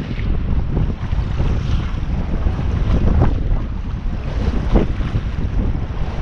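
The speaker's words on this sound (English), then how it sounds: "Really getting some wind out here, folks." Strong wind buffets the microphone on a boat out on open water during a catfishing trip, a continuous low roar with gusts swelling and easing, plus faint water noise underneath and no voices.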